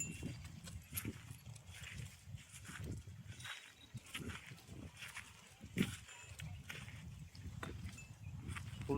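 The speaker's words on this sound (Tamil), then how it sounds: "இந்த பக்கம் மாடு ஓட்டியா தான் புல் சூப்பராக மேயும்." Cattle grazing in a grassy field, soft irregular thuds of hooves and tearing, munching bites close by, with faint outdoor background noise.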